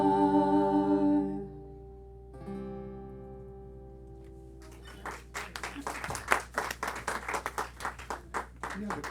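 A live audience claps after a band's song at a lunchtime concert, a burst of scattered applause that follows the last sustained notes of the music, fairly close and lively over a low room hum.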